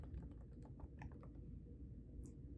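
A password typed into a Linux terminal on a computer keyboard: a quick run of soft, close keystrokes that slows and thins out toward the end, with no voice.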